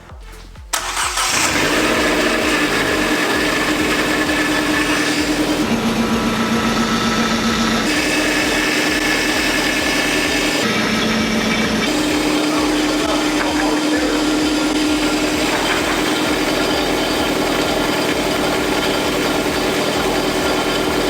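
A Ford Ka race car engine cranks and catches, then settles into a steady, loud mid-pitched running idle that continues close by with a few small shifts in tone.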